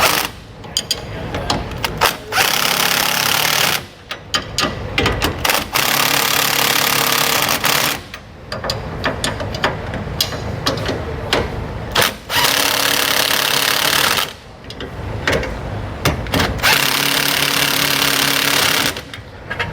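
Power tool driving bolts and nuts to snug down bronze bushing hardware on a 2022 Grand Design Imagine trailer, with several bursts of whirring rattling run time separated by short pauses.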